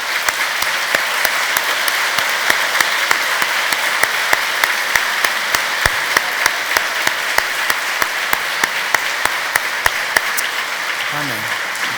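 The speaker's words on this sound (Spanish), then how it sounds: "Denle un fuerte aplauso al Señor." A church congregation claps loudly in praise, a full, even wash of applause punctuated by regular sharp, close claps keeping a steady beat, with faint voices low underneath near the end.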